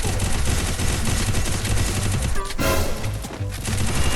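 Dense, continuous rapid gunfire in a zombie-mode video game fills the whole stretch, loud and relentless like automatic weapons firing nonstop.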